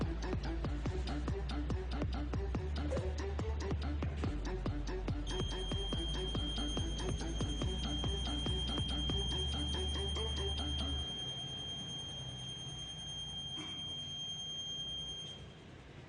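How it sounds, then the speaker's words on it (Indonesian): An Arduino buzzer on an automatic bicycle parking system gives a sustained, piercing electronic tone for about ten seconds, joining after a stretch of busy clattering background noise that fades midway. "maka buzzer akan berbunyi"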